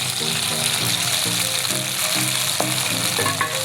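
Green chillies sizzle and fry in a pan with a steady crackling hiss, while tomatoes are added with soft stirring, and a low repeating hum runs beneath the sizzle.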